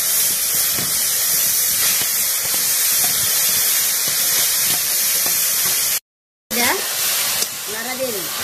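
Loud, continuous steam hiss and sizzle rise as chopped papaya goes into hot sugar caramel in a wok over a village cooking fire, lasting several seconds before a brief break and a voice speaking.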